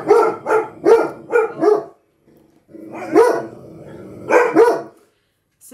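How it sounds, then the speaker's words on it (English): Two dogs bark outdoors in bursts, first a quick run of four or five barks, then a pause and a few more spaced barks, fairly close and loud with no talking over them. "So, only two dogs barking there."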